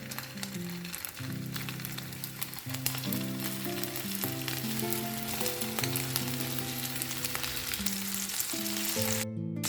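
Meatballs (köfte) frying in a little oil in a hot pan give a steady sizzle that runs the whole time beneath louder background music.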